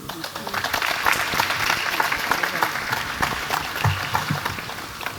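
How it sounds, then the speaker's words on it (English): Audience applause at an astronaut reunion event, sustained dense clapping from a large crowd filling the room evenly for several seconds, with a few louder individual claps near the end. "And one more round of applause for these young women."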